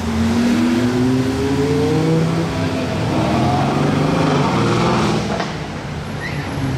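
A Lamborghini Aventador SVJ Roadster V12 fitted with a Gintani exhaust revs loudly outdoors near a casino, its pitch climbing in long sweeping pulls over a constant roaring background.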